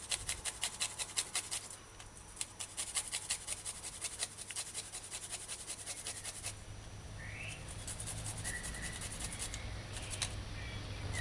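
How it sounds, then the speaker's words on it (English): Fresh ginger rubbed against a metal kitchen shredder into puree, a steady close rasping scrape with quick repeated strokes that blur into a continuous gritty rub, no talking. "now let's get a shredder and grind the ginger to puree"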